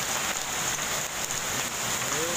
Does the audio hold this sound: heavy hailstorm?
yes